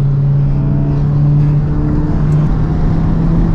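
A race car engine on a track holds a loud, steady, close drone with a strong low hum and almost no change in pitch.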